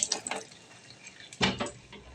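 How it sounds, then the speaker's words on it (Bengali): Water from a kitchen tap splashes over hands being washed after marinating pointed gourd with turmeric, in short bursts: a spattering start, a pause, then a louder gush that fades. "আর এখন আমি হাতটা ধুয়ে"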